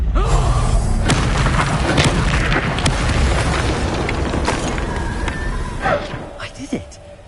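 A roaring fire-spell blast cast as Incendio in Hogwarts Legacy, a loud booming burst that rumbles and crackles through most of the moment before thinning out, with scattered sharp pops and clicks toward the end.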